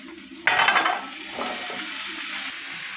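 Drumstick (moringa) pods dropped into hot oil for a poriyal set off a sudden loud sizzle, followed by a steady frying hiss and the scrape of stirring in the pan.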